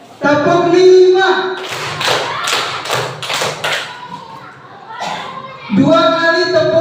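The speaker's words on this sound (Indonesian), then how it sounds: "Coba ada ice breaking tepuk 1 sampai 5." Teachers at a Guru Penggerak training session clap together in a counted ice-breaker: a run of loud, rhythmic clap bursts sits between stretches of voices talking before and after.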